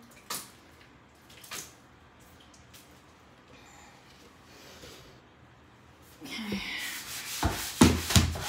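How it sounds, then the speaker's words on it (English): Water is poured during bathroom cleaning with Dawn Power Wash: a few soft knocks and scrapes come first, then a loud, splashing gush of water near the end. "I'm gonna put a little bit of water there."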